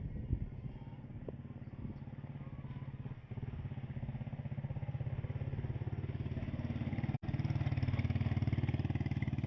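A motorcycle carrying students rides along a road in Barangay Cabugao Sur, its mid-pitched engine droning steadily and close by for the whole stretch, with a brief dropout near the end before the engine picks up again.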